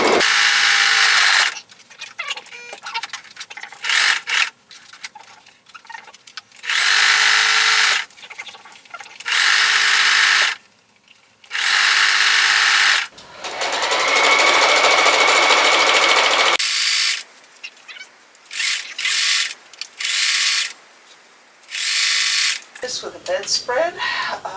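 A sewing machine stitching a large Banyan bedspread-style garment, in repeated loud mechanical bursts of rapid whirring that stop and start, with a person talking between runs.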